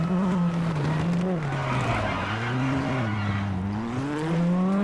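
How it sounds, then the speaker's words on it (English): A rally car in the WRC video game brakes hard for a hairpin, its engine droning loudly with a falling and rising pitch beneath continuous tyre skidding, close and unbroken throughout. "Caution, Hard brake for hairpin left."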